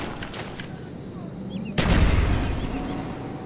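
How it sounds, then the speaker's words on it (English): A grenade goes off in a military video game with a sudden loud boom that rumbles and fades, following a stretch of steady background game noise. "Throwing grenade!"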